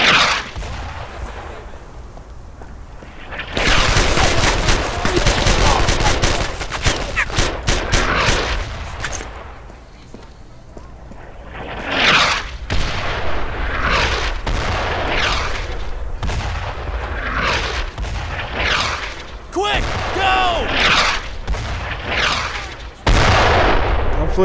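Grease gun fire in the World War II shooter Brothers in Arms rattles in loud bursts, interleaved with heavy booms and distant artillery, dense and continuous battle noise up close.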